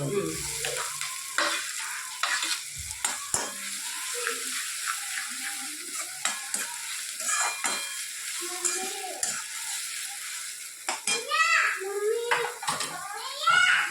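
Garlic, onion and tomato puree fry in a pan for pav bhaji. A utensil scrapes and clinks repeatedly against the metal while a soft sizzle runs beneath and voices, including a child's, talk intermittently.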